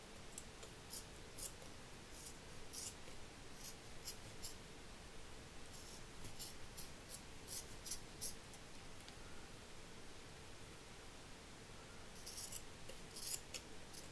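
Scissors snipping through card, a series of quiet crisp cuts in irregular clusters against a soft background hiss, with no talking.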